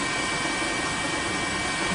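A news helicopter flies over a tsunami engulfing the Sendai area of Miyagi Prefecture, Japan. Its engine and rotor make a loud, steady, close roar that does not change for the whole clip.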